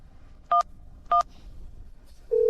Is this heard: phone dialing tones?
yes